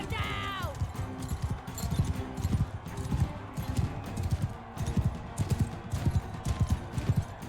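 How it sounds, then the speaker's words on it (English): In Mount and Blade Bannerlord, a horse's hooves clip-clop in a quick, steady galloping rhythm, loud and close, after a short whinny at the start, with game noise and someone talking over it. "I'm just going to hop on this horse"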